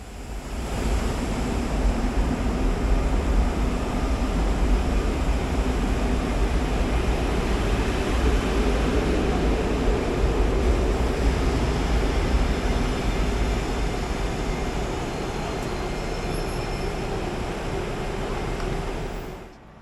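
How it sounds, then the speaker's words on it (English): A Belgian AM96 electric multiple unit, built in the late 1990s, eases slowly into a station platform, giving a broad, steady roar of rolling noise that holds loud and even before fading at the very end. "our train makes it slowly into the platform"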